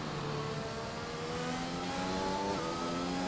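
Formula 1 race cars on outlaps in an F1 video game set at Russia, several engines droning steadily with rising and falling pitch, a continuous mid-level roar throughout.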